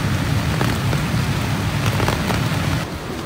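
Heavy rain pours steadily on a windy shoreline, a dense continuous hiss of water with low rumbling gusts beneath and scattered sharper drops, loud and unbroken throughout with no voices.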